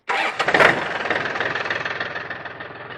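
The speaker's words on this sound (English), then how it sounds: "Turn the tractor on." A tractor engine cranks over and catches at a pole building site, then settles into a loud, close, steady pulsing idle that slowly quiets over the following seconds.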